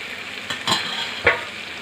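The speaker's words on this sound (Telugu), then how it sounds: "ఈ విధంగా వేగనిద్దామండి" Dry fish curry frying in a pan gives a steady close sizzle, with two short scraping stirs standing out briefly over the frying.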